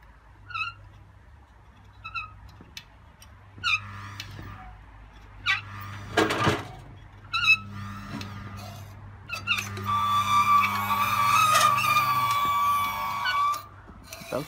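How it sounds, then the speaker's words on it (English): A loose drive belt slips and spins on the motor of a Fagor machine, giving squealing, chirping bursts that build into a sustained high whine near the end, with low motor hum underneath. "Belt's just spinning in there, it's not right."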